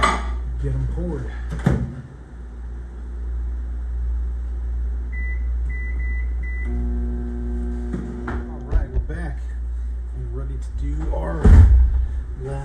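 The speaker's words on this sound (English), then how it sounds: "So I'm going to throw them in the microwave" A microwave oven in a workshop hums steadily while heating fishing-lure pours, with a clunk near the start, a brief high beep midway, and further door and handling clatter near the end. Faint talk may sit under the hum.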